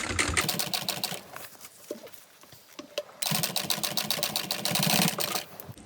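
A sewing machine runs in two loud bursts of rapid, even stitching while elastic is sewn onto a fabric Sue Sue Sling, separated by a quieter pause with light handling clicks.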